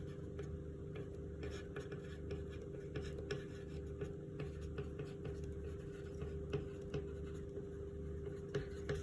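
Faint, quiet scratching of a pen or marker on paper in short strokes, marking a sewing pattern, over a low steady hum.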